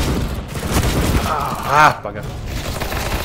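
Gunfire from the shooter CS:GO, a pump-action shotgun, crackles through a busy exchange, with a loud blast near the middle while someone talks over it.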